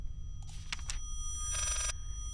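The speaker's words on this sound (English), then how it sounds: "Sounds like the phone ringing backwards?" A telephone ring played in reverse in the horror video game Layers of Fear, heard as two bright metallic bursts, a broken stuttering one followed by a sustained trilling one, over a low hum.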